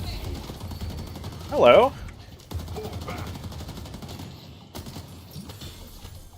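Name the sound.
gunfire with Tesla bullets in a video game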